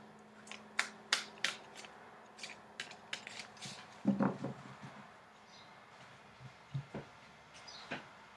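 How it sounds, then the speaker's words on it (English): Tarot cards are riffled and shuffled in quick, crisp bursts of flicking, repeated several times with short pauses and a few soft taps, close and fairly quiet. "So I'm shuffling the cards."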